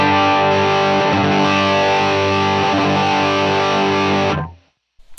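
Electric guitar played through the distortion channel of a Line 6 Helix modeler on a Trainwreck Express amp model, a loud, sustained saturated chord that rings steadily for about four seconds, then cuts off abruptly into silence.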